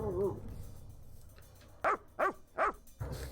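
A dog in the video game Dead State barks three times in quick succession, loud and close, over low background noise.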